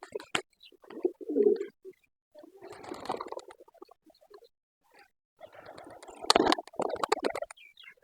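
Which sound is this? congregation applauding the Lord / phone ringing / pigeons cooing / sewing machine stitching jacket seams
pigeons cooing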